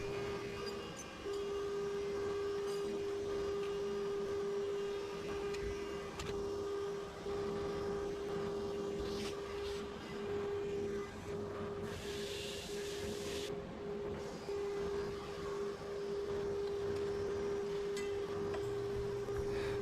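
A ShopBot CNC router's spindle runs through its warm-up cycle, giving a steady mechanical hum with a sustained tonal whine throughout, a brief brighter hiss partway through, and a fairly quiet level overall.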